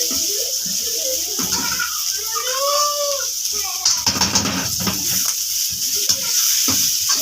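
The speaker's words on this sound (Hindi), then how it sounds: "ये मैं हल्का सा फ्राई करूंगा इसको" Onions fry lightly in a pan for chicken Manchurian fried rice, a soft sizzle with stirring scrapes and clatter, while someone talks over it.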